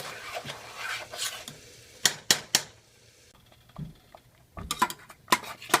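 A spoon scrapes and stirs thick homemade chicken haleem in a pot over a low flame, making irregular rasping strokes and soft knocks against the pot, some in quick clusters, with quiet gaps between them.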